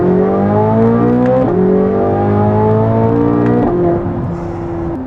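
A Chevrolet Corvette Z06 engine revs hard and loud, its pitch climbing through two or three rising sweeps with brief drops between shifts, close by and with no voices over it.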